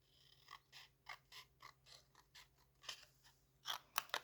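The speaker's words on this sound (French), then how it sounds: "je vais venir découper une bande de chaque côté" Scissors snip a strip off a sticker sheet up close, a rapid run of small crisp cuts and metallic clicks, ending in a few sharper snips.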